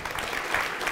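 A conference audience applauds its sponsors, a steady wash of many hands clapping at moderate loudness through the whole brief moment.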